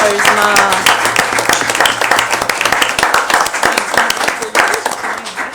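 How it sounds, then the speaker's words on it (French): Warm applause at a municipal council meeting, a dense burst of clapping from the room lasting several seconds while a few voices speak over it. "on l'applaudit chaleureusement"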